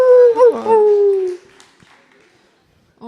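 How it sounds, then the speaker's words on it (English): A small pup gives a loud, close whimpering howl that slides downward for about a second and a half and then fades into near silence, in a busy setting at a live Q&A in Berlin. "That's a dog."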